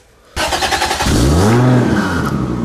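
A twin-turbo Toyota Soarer car engine kicks in loudly and revs up, the pitch climbing and holding in a throaty roar before easing off.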